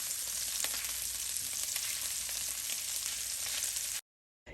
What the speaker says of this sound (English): Place the sausages on into the pan. Give it some time, of course. Allow it to brown on up.